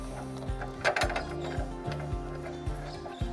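A caravan jockey wheel is wound into place, giving a steady close series of regular ratcheting clicks and mechanical ticks, about one every half second.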